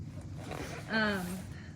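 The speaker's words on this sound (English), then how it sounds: "I love it because it zips closed" A short zipper pull closes a bag, a brief rising rasp heard nearby and fairly soft over a steady background hum.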